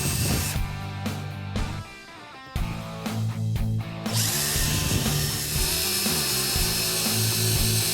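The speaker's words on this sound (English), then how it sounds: "Then drill your first hole." A power drill whirs steadily for several seconds, drilling holes in a plastic rear lower valance for a 2013-2014 Mustang exhaust install, pausing briefly in the middle before resuming, with a grinding, buzzing tone and no talking.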